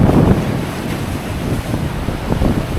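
Sea waves crash against rocks on a deserted Japanese coast: a continuous loud, rushing roar of surf with heavy wind buffeting the microphone and swells rising and falling.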